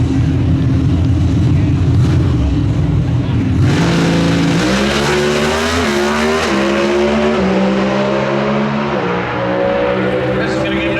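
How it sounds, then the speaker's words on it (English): An NHRA Pro Stock drag race car engine refires and revs at close range, a loud sustained roar with rising and falling pitch steps, preceded by a steady rumbling idle and mixed with crowd and announcer noise. "It sounds like that race car is refired."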